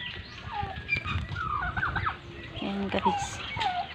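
Chickens and ducks cluck and call over busy farmyard noise during feeding, several birds near and far, while a person speaks briefly.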